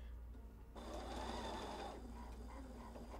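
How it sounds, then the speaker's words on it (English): A sewing machine stitches across the top of a June Tailor quilted insulated shopper tote with a steady, fairly faint mechanical whir that runs continuously for a few seconds. "now I'm going to sew back across the top of this."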